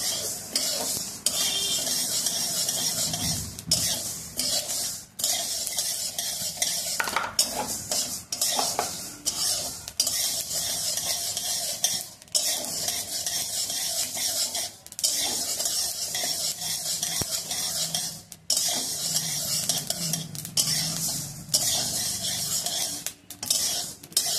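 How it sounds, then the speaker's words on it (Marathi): Grains and flour for thalipeeth bhajani dry-roasting in a pan, stirred continuously with steady scraping and rattling against the metal and a faint sizzle, close and loud throughout with no speech. "तर लालसर होईपर्यंत आपल्याला हे भाजायचे आहेत"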